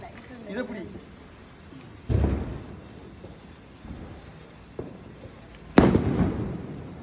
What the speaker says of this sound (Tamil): அவ்வளோண்ணா வெடி. இந்த மேலே போய் செதறி போகணும்.